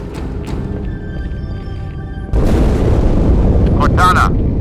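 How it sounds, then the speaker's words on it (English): An explosion in the Halo 2 video game bursts in suddenly midway as a loud, sustained rumbling roar over game background sound, with brief voice-like tones near the end. "That explosion came from inside the Athens, same as the Malta."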